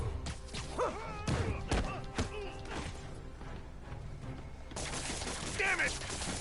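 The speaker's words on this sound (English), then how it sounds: "Probably because they're shooting at me." Gunfire from thugs in the Spider-Man PS4 game, scattered sharp shots and thuds mixed with impacts and game effects, with a voice talking between the bursts.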